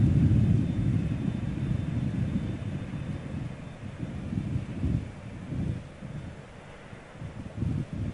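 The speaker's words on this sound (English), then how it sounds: "I can see Emirates, got something touching down." An Emirates airliner touching down at London Heathrow at sunset, heard as a distant, low rumbling roar that swells and fades unevenly amid wind buffeting on the microphone.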